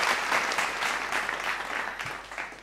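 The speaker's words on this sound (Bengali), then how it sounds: "একটু তালি দেই সবাই মিলে।" A studio audience claps steadily for a few seconds after a Bengali song performance, a dense, even round of applause with no voices over it.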